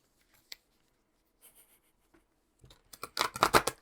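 Newly purchased tarot card decks are shuffled by hand, first a few faint isolated taps and slides, then a dense, louder burst of riffling and flicking cards near the end, close and with no speech.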